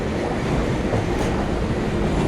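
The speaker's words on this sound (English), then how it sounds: "Here comes the train now." Steady, continuous rumble of a passenger train rolling into Vancouver's Waterfront Station, with dense low-frequency noise and a faint rhythmic rattle, close and fairly loud throughout.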